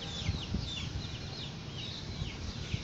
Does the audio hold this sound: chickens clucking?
yes